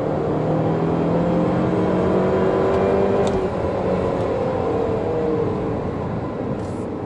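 Chery Tiggo 5X SUV accelerating uphill in sport mode, a steady loud engine drone with rising tones heard from inside the cabin, continuous throughout with no talking.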